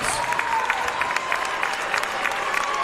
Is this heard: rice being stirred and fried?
no